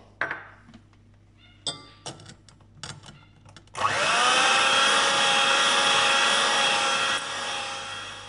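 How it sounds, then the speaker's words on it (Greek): An electric mixer beats sugar with egg yolks for a Greek custard, starting with a few clinks and knocks, then whirring loudly and steadily at close range for several seconds. "θα τη χτυπήσω στο μίξερ με τους κρόκους αυγών"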